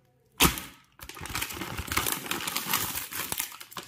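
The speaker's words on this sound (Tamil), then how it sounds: "இப்போ நம்ம பேயை ஓப்பன் பண்ணுவோம்" Plastic packaging around a Beyblade Cyclone Ragnaruk being torn open, a sharp crinkle at first, then steady close-up crinkling and rustling of the bag.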